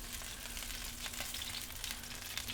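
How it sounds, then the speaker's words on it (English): Steady, close sizzling with scattered crackles and pops of crispy roast chicken skin, fat spitting on hot skin. "Hear that sizzle and pop."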